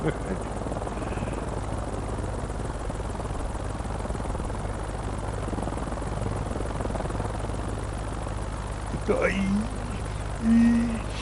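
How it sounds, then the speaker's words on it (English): A Hiller UH-12B helicopter in a flight simulator game gives a steady, loud rotor and engine drone that runs without a break, with a brief voice near the end. "This helicopter's pretty slow."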